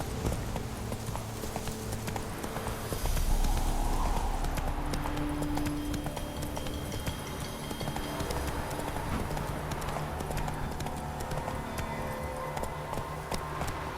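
Hoofbeats of the horse Roach galloping in The Witcher 3, a steady clip-clop rhythm running continuously beneath game ambience and background noise, moderately loud throughout.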